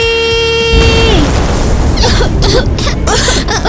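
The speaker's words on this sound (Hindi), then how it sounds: "ईवा का धमाका था" A loud magical blast bursts out in a Hindi cartoon about elemental powers, starting with a sustained tone that cuts off into a heavy, rumbling boom lasting several seconds, with crackling bursts trailing after.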